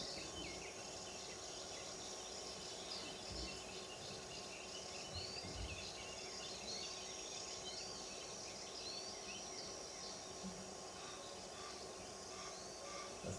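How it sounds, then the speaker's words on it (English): A continuous high insect-like reel of grasshopper warblers runs under a faint wetland dawn chorus with scattered bird calls, including cuckoos and snipe, distant and quiet throughout. "the grasshopper warblers just reeling in the background all the time"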